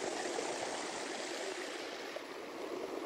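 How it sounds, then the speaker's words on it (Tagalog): A rural province stream flows steadily nearby, a constant broad rushing and babbling water sound with no voices. "Tingnan yung sapa dito."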